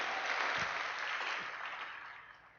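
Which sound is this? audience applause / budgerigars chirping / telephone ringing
audience applause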